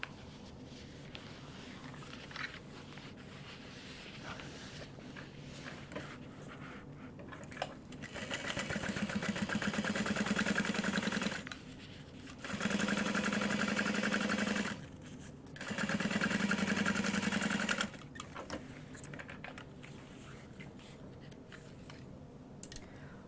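A sewing machine top stitches along the contrast panel of a tote bag in three sustained runs of rapid whirring, separated by brief pauses, with quiet handling noise before and after.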